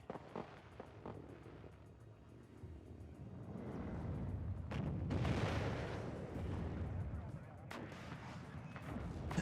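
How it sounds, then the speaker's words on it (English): An RPG hit amid gunfire and artillery in the real-time strategy game WARNO: distant booming blasts and rumbling explosions swelling midway, with scattered sharp shots over a constant battle din. "That RPG finally got him."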